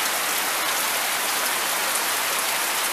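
Steady rain falls outdoors near a concrete slab, a dense, even hiss of drops on hard surfaces that holds loud and unbroken throughout.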